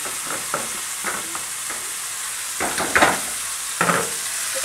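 Tempeh stir-fried in a pan with long beans and shrimp, a constant sizzle punctuated by irregular spatula scrapes and clacks, louder toward the end, close with no voices.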